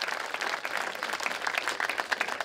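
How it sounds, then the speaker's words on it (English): Applause from a crowd at a Veterans Day celebration in honor of the Congresswoman, a moderate burst of clapping that stays fairly even across its short span. "let's give our Congresswoman another round of applause, please"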